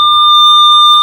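Handheld metal detector sweeping a farm field for brass and gold, giving a steady, loud, unbroken high electronic tone with a faint overtone above it, held for about a second.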